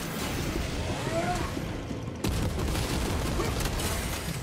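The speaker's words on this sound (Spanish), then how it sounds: "yo sigo repartiendo tiros en esta mierda" Gunfire rattles in the video game Space Marine 2, dense bursts of shots and mechanical clatter filling the clip, with a sharp shift in intensity midway.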